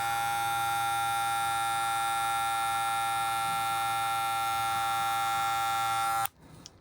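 A Wahl Magic Clip cordless hair clipper, boosted with a brushless motor, runs with blades closed in a loud, steady high-pitched whine that holds evenly, then cuts off abruptly near the end.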